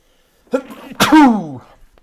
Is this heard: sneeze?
yes